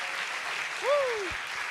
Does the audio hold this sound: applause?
yes